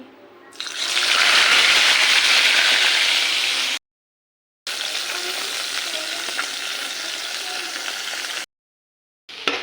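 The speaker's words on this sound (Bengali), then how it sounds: "তো মাছ ভাজাটা বসিয়ে দিই।" Fish fries in oil in a pan with a loud, close, continuous hiss and crackle. The sizzle cuts out abruptly twice, then picks up again.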